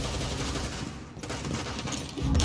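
Rapid automatic gunfire in the video game Rainbow Six Siege, a loud, dense, continuous stream of shots with no pause.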